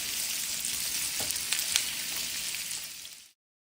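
A snack mixture seasoned with salt fries in a pan with a constant close sizzle, with a few light scrapes of stirring, then cuts off abruptly to silence and has no talking.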